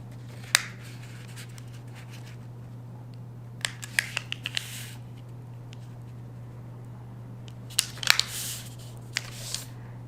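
Sheets of paper being folded for an origami jumping frog give scattered crisp rustles and sharp creasing snaps over a steady low electrical hum, quiet between bursts, with no talking.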